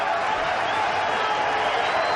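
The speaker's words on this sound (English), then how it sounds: "Crowd's enjoying every bit of it" Cricket crowd at a Pakistan vs India match cheering after a six, a broad steady roar of many voices held under the noise for a couple of seconds.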